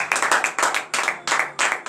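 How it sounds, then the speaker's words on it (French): Congregation clapping in quick rhythmic bursts during a morning prayer service in Benin, several loud sharp clusters of hand claps with brief gaps, no speech. "Donnez de l'acclamation à l'Éternel."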